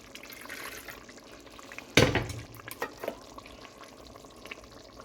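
Coconut milk being stirred and poured in a pot while cooking Tamil crab curry, with a sudden splashy pour, then soft scraping and sloshing over a faint background hiss.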